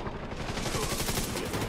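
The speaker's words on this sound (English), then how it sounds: "I've got someone shooting me from over here." Enemy gunfire rattles without pause in The Division 2, a dense, loud burst of rapid automatic shots filling the whole moment with no voices.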